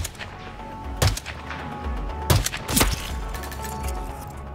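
Sniper rifle shots in Hitman's Siberia Sniper Challenge with Agent 47: a few sharp, booming reports spaced apart, loud and close over a low ambient rumble.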